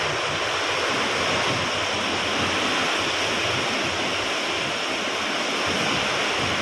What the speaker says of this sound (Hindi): तो पानी बहुत तेज बरस रहा है